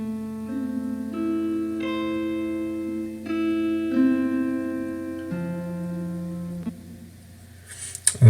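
A soft ambient guitar loop built in FL Studio, with smooth sustained tones gliding between pitches over a low drone, moderately loud and unaccompanied, ending in a brief burst of noise.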